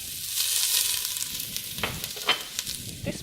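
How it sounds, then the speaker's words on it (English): Onion and garlic hiss and sizzle in a hot pan, a bright frying crackle that swells and then eases off, broken by a few sharp pops and spatters as the pieces settle. "adding in the onion and garlic. And you want it to be hot so you can really get that sizzle going straight away."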